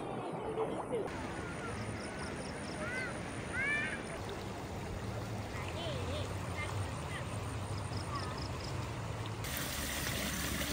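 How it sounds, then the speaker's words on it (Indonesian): Swift river rushing past at a forest chalet in Kampung Sahom, Perak, as a steady broadband wash of flowing water with birds chirping faintly above it and people talking at times. "sungai yang deras."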